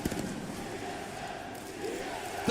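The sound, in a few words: esports arena crowd cheering for TSM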